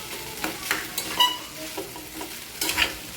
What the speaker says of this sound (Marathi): आता या भाताला आपण या फोडणीमध्ये छान मिक्स करून घ्यायचं.